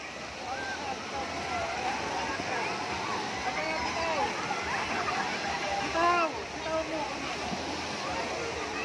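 Waves slosh and splash continuously in a busy artificial wave pool at a resort in Taguig City, with crowd chatter and excited voices all around.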